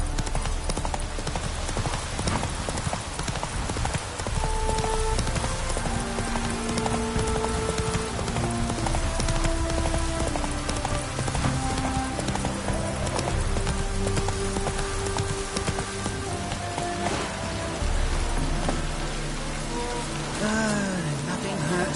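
Horse hooves clip-clopping steadily in The Witcher 3 video game, a continuous rhythmic trot beneath a musical score with rain-like patter, no talking.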